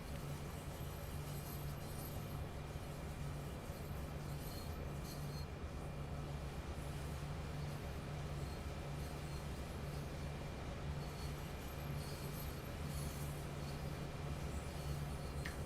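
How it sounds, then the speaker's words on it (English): A freight train rolls along the Clinchfield Railroad in Train Sim World 2, giving a steady, low, droning engine hum and rail rumble that stays even and moderately quiet throughout. "We've literally had to shove almost the entire train back through here."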